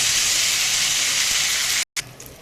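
Potato, bitter gourd and bottle gourd greens fry in oil with a loud, dense, continuous sizzle heard up close, which cuts out abruptly near the end and returns more softly.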